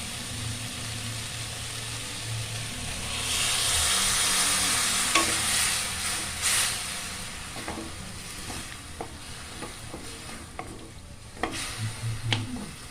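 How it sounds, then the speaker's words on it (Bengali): Vegetable curry with turmeric and cumin simmering in water in a pan, a steady soft bubbling hiss with occasional light clinks and stirring taps, close and fairly quiet, no talk. "তরকারি ওখানে সেদ্ধ হচ্ছে"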